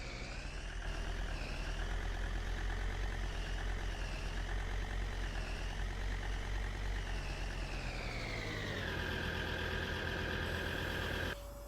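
A tractor or truck engine in Farming Simulator 19 runs steadily at a loud, close idle, its pitch sagging and shifting slightly as it keeps going, with a drop in tone near the end.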